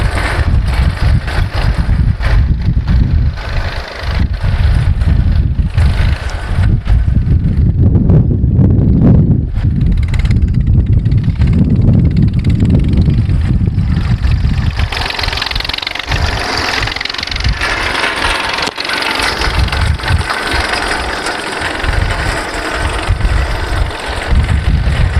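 A tractor-driven multicrop seed drill, a 2024 model, runs with a steady, loud, close engine drone throughout, its low rumble continuous with mechanical clatter and no pauses.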